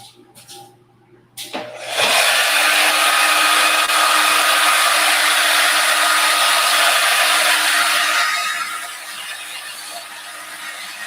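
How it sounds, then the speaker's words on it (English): A hair dryer, used while building a 1/12 scale Routemaster bus model kit, switches on after a few clicks and runs loudly and steadily, then eases to a slightly lower setting near the end. "You'll hear the hair dryer again."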